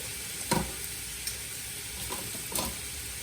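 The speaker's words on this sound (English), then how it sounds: "And you want your onions to cook down until they get real brown and caramelized." Onions sizzle softly in a pan as they cook down toward brown caramelization for jambalaya, a steady low crackle broken by a few sharp stirring scrapes and taps, with no voices.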